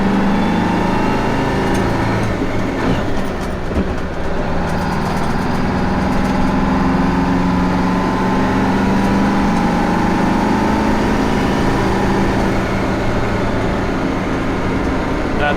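A Kenworth cabover truck's diesel engine runs at a loud, steady low idle inside the cab, a constant rumble with faint rattles and no speech.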